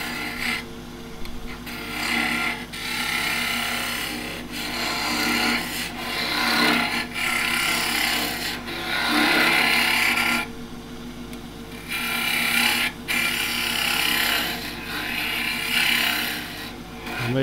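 Chisel cutting wood on a lathe as a salt scoop is turned with a converted joiner's chisel: a continuous close rasping scrape in long, steady passes with brief pauses between cuts.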